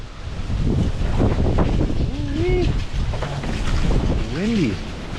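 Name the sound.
wind blowing outdoors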